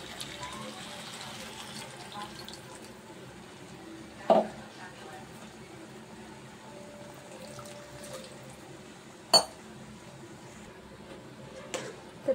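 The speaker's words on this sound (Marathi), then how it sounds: "तर पाणी टाकून आपण शिजवून घेऊया व्यवस्थित." Water poured into a pan of spiced vegetables mixed with coriander gives a faint, steady liquid wash in a quiet kitchen, with a few sharp clinks standing out briefly.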